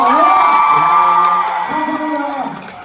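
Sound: audience applause and cheering

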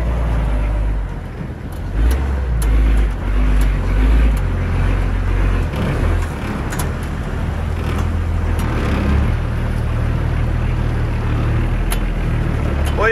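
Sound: Suzuki Samurai driving on a rough tank road

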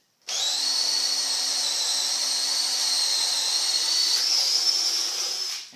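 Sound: DeWALT drill drilling under load

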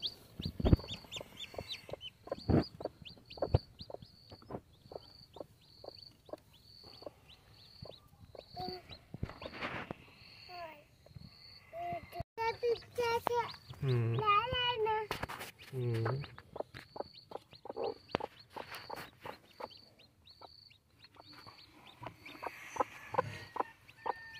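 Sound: hen clucking with chicks

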